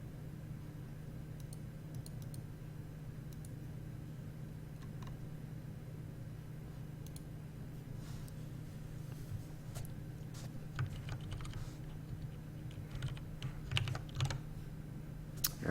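Rapid, irregular clatter of keys on a computer keyboard as a code is typed, quiet and close, with bursts of denser tapping toward the end over a low steady hum.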